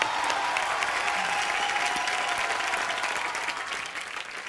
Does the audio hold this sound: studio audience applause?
yes